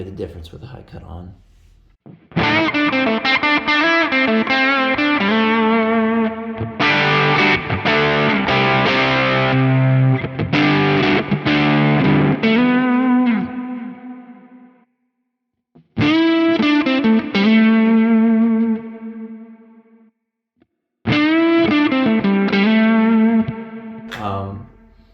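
An electric guitar runs through an overdrive pedal capture on a Quad Cortex with the high cut switch on, giving loud, crunchy distorted chords with a slightly rounded top, played in three bursts separated by short silences.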